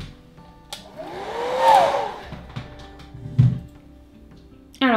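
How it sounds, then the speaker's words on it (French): A hair dryer blows over a wet watercolor painting of a night mountain landscape, a close, steady whooshing hum whose pitch shifts as it moves, with a few clicks and knocks and a sharp bump at the end. "Je vais le sécher."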